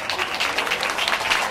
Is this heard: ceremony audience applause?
yes